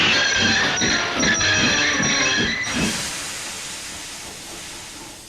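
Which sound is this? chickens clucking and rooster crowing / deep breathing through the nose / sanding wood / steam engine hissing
steam engine hissing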